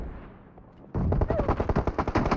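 Rapid automatic gunfire from the PUBG Mobile shooter game, a loud dense burst of repeated shots that starts abruptly after a quieter stretch and continues to the end.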